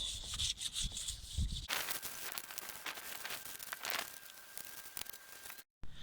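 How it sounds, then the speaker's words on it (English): Steady rubbing of fine 4000-grit sandpaper on a plastic headlight lens, a close, continuous scratchy hiss that shifts in texture as the strokes change. "So that's just sanded down to 4000 grit now"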